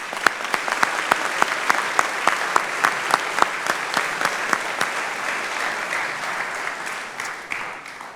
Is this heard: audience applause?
yes